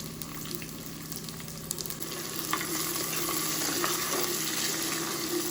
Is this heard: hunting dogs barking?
no